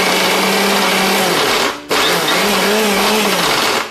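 An electric mixer whips and mixes khejur gur sandesh, a Bengali date-palm jaggery sweet, with a loud, steady whirring drone that briefly cuts out for a moment before starting up again.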